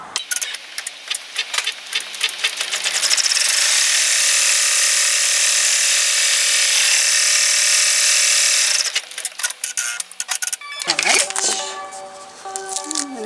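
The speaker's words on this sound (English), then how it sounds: "what it's going to do is now sew out and tack down" An embroidery machine sews out and tacks down vinyl pieces on an in-the-hoop 5x7 bow-front zip bag, a steady dense stitching buzz with clicky starts and stops before and after.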